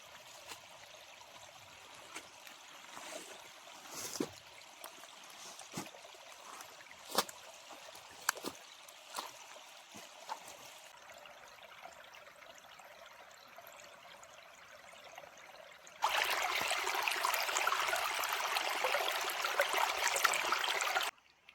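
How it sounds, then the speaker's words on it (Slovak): Spring water wells straight out of the ground in a rainy, foggy forest, a soft continuous trickle with scattered drips and small knocks, then a louder, closer gush of running water near the end. "krásne to vyviera priamo zo zeme"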